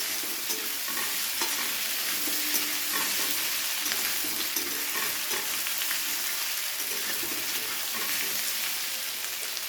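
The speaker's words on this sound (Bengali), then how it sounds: "পেঁয়াজ দিয়ে আলু দিয়ে খুব ভালো করে এবারে গ্যাসের ফ্লেম হাইতে রেখে ভেজে নিতে হবে" Potatoes and onions fry in hot oil over a high gas flame, giving a loud, continuous sizzle with soft stirring scrapes and crackles throughout.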